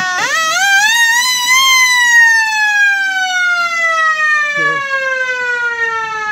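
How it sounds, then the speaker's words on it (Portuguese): Siren at a paintball and airsoft field in Rio marking the start or end of a match, a loud electronic wail that rises sharply, then slowly falls in pitch over several seconds, heard close and alone. "Tocou a sirene e deu início na partida ou finalizou a partida."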